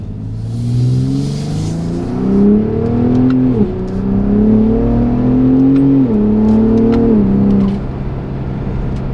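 A Gen 3 Ford Raptor with a 3.5L V6 and AWE Switch Path exhaust revs up repeatedly, a loud, close, deep rumbling tone rising and falling in pitch over several pulls.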